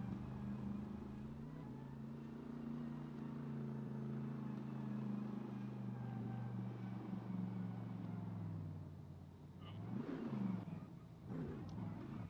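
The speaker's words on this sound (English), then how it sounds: "Will doing his thing, burning up the tires here, getting them nice and cooked for this run." Drift car burning up its tires at the start line in a Road Atlanta sim drift competition: a steady droning engine note held at high revs, with tire noise swelling toward the end. Faint and unbroken.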